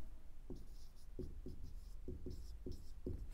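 A pen scratching out a CNC turning program by hand on paper, in short separate strokes with brief pauses between them, close and quiet, with no voices.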